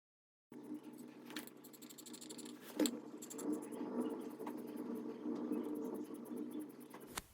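Quiet, scratchy snips of cutting fabric for a dress sleeve, soft and close in an otherwise still room.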